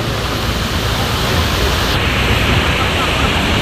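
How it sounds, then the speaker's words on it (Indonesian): Lembah Anai waterfall in West Sumatra roars as a loud, steady, broadband rush of falling water, continuous and close, with no talk heard. "Air terjun Lembah Anai, suatu objek wisata yang terkenal di Sumatera Barat."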